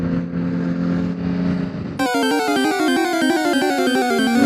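A Honda CBR600RR sport motorcycle engine idles low, then revs sharply with a loud, sustained rising and falling engine whine, recorded close up on an evening street in Stockholm.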